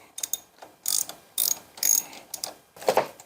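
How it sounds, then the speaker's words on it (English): A ratchet turns a 5/8 spark plug socket to loosen a spark plug on a John Deere LA165 lawn tractor, giving a series of close, sharp clicking bursts in an uneven rhythm. "Okay, it takes a 5/8 spark plug socket. Turn left to loosen."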